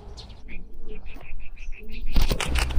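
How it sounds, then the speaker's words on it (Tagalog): Pigeons at a farm's animal village in Lipa, Batangas, Philippines chirp softly in a steady series, then a burst of wings flapping breaks out loudly near the end. "Dito naman mga kalapati."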